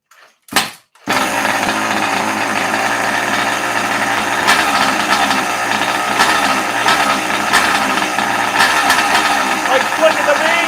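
Rovan 71cc engine fitted with an SRE case reed fires up after a brief pull, then runs steadily and loudly close by, with someone talking over it.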